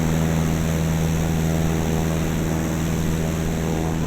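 Steady, loud propeller drone from a Cessna 152 engine in a VATSIM flight simulator, an unbroken buzzing hum that holds without change.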